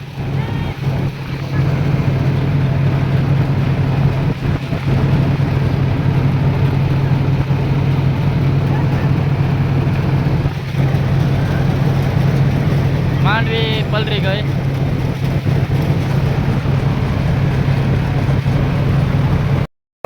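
A farm thresher for groundnuts runs in the field during heavy rain, giving a loud, continuous mechanical drone with a steady low hum that never lets up, plus a few brief chirpy sounds partway through.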